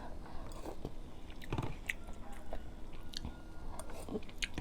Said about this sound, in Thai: เห็ดหูหนูน่าจะให้เยอะๆนะ มันมีความกรุบกรุบกรอบกรอบ